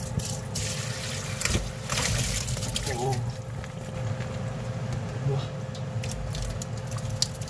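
Liquid poured out from a container, a trickling, splashing flow heard close by beneath a person talking.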